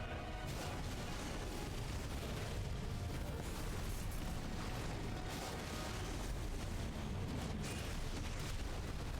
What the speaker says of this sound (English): suffering an attack, however, will automatically trigger the explosion